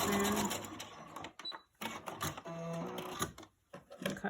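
A sewing machine stitches across fabric in short bursts, its mechanical whir starting and stopping several times at close range with brief pauses between runs.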